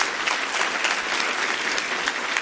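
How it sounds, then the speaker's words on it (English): A conference audience at a product academy keynote claps for a speaker in a steady, dense burst of applause that fills the whole moment, with no talking over it. "Let's give her a round of applause."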